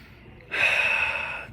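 A single deep inhalation during a breathing exercise, a sudden loud rushing breath drawn in close to the microphone and held steady.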